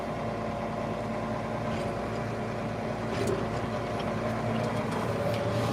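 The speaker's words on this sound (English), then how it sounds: "Now that the hard work's done, turning the tractor around." A tractor engine running while the machine turns around, a steady low mechanical drone that holds level throughout with no talk.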